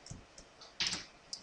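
Computer keyboard typing while entering user details in WordPress: a few scattered key clicks, then a brisk louder burst of keystrokes and one last tap, close and clear with no talk.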